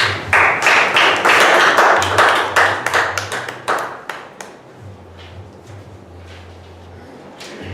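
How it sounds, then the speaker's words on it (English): Applause from a small audience at a Toastmasters club meeting, a sparse group of individual hand claps that starts loud and thins out, with a low hum running underneath. "We have a big round of applause."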